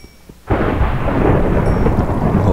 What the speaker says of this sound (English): Oh, lightning strikes.